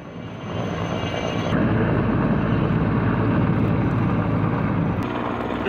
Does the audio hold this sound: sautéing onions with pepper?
no